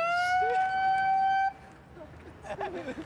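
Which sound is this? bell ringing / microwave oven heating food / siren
siren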